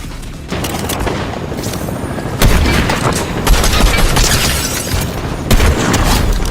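Gunfire rings out in a Fortnite 1v1 map video game match, a loud, dense stream of rapid shots and booming bursts that continues without pause, with no voices.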